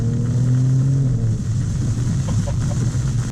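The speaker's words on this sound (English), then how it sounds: "And we'll punch it a little bit. That's smart all-wheel drive kicking in." Alfa Romeo Stelvio Quadrifoglio with all-wheel drive accelerating hard, its engine droning loud and steady from inside the cabin, pitch shifting as it pulls.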